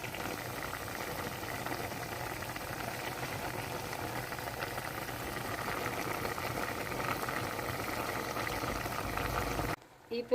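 Bitter gourd simmers in yogurt water in a pan, bubbling and hissing steadily and close for about ten seconds before cutting off abruptly.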